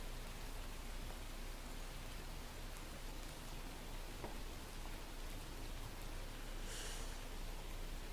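Steady, soft hiss of rain falling outside, even and unbroken throughout with no voices, faint and diffuse like distant drizzle.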